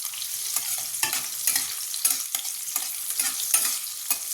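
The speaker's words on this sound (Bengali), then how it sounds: "কড়াই তেল দিয়ে দিয়েছি দিলাম কাজু কিশমিশ আর একটু কাঁচা লঙ্কা" Cashews, raisins and green chilli fry in oil in a wok, with a soft sizzle beneath repeated close scraping strokes of a spatula stirring in an irregular rhythm.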